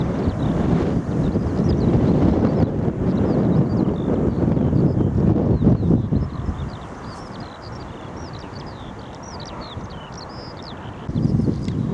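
Strong wind roars and buffets the microphone on a breezy countryside walk near Royston, easing after a few seconds to reveal birds chirping in the background before another gust returns.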